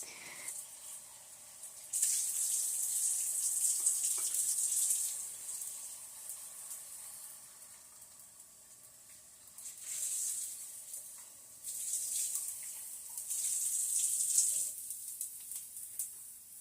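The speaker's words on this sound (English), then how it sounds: "And I'm going to rinse the cup out." A cup being rinsed under a running kitchen tap, with water splashing in two bursts separated by a quieter pause, faint and close.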